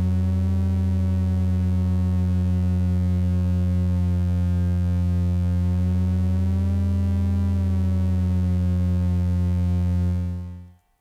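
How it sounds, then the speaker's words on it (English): A Minimoog Model D synthesizer holds a steady low tone from detuned oscillators that beat against each other in a slow, even pulse. It stays loud for about ten seconds and then cuts off. "allowing us to create this beautiful detuning pulsing effect."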